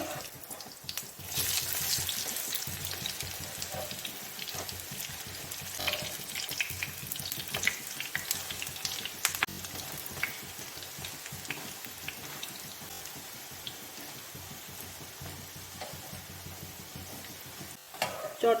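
Slices of bread coated in besan batter fry in hot oil, a constant fairly soft sizzle with scattered crackles and pops that lasts throughout without talking.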